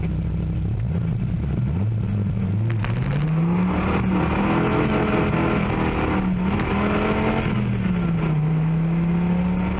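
A Dodge Viper RT/10 engine revs and pulls hard on a night drive with the top down, its loud droning note rising, easing and rising again through gear changes, with wind rush over it.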